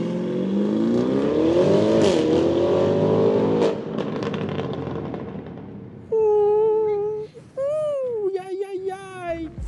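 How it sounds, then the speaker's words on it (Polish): A 1001 hp MTM-tuned Audi RS Q8 accelerates from a standstill with a rising engine roar that fades, followed by several loud, sharp exhaust pops and crackles close by. "Fajnie brzmią te popsy, aczkolwiek to nie było przyspieszenie godne auta, które przyspiesza w 3 sekundy."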